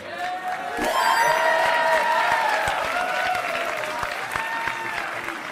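Crowd at a Tetris match breaking into loud applause and cheering after a sharp onset, sustained clapping with shouts that slowly eases over several seconds.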